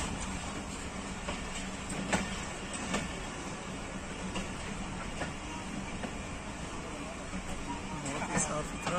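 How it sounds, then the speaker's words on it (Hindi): A Pakistan Railways Jand passenger train arrives at Jand junction, a continuous rumbling rail roar with occasional clacks and bumps, fairly faint and steady throughout. "जंड जंक्शन पहुंच रही है 204 डाउन जंड पैसेंजर ट्रेन"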